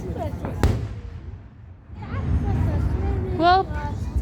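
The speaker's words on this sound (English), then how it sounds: "these next few fireworks are very hard shattering" Fireworks at a family outdoor display: a sharp nearby bang early on, then crackling shattering bursts and whistling streaks, with a crowd murmuring and voices talking throughout.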